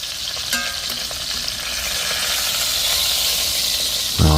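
Pork neck bones fry and brown in a pan with a steady, close sizzle and hiss that builds slightly, with a few utensil clinks and a louder low thump near the end.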